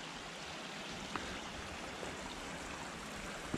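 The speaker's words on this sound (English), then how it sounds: "Little creek running down." A small creek runs down beside a forest trail on the Dosewallips River Trail in Washington, giving a soft, steady rushing wash of water with no voices.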